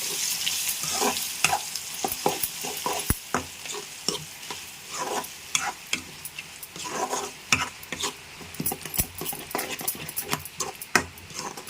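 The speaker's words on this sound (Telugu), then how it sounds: "ఇప్పుడు మనం చక్కగా అటు ఇటు కలిపి తీసుకోవాలి" A spoon scrapes and knocks around a pan as tomato and ridge gourd chutney is stirred, irregular close clatters over a soft sizzle, with no voices.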